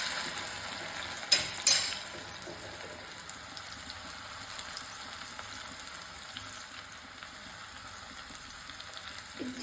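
Garlic paste hits hot oil in a pan for kadhi tempering and sizzles steadily, a continuous frying hiss with a couple of brief sharp crackles near the start.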